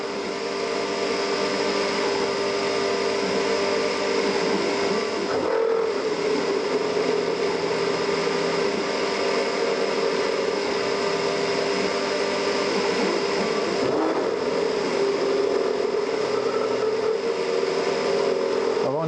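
A CNC machine mills an exhaust port in a diesel engine, making a steady, loud whirring and grinding drone with a few brief dips as the cutter moves.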